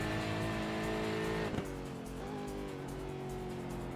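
A race car engine in the iRacing game at the Nürburgring 24-hour race, damaged after a crash and running on roughly half of its eight cylinders, with a loud harmonic drone, a brief squeal midway and a rougher, lower note afterward.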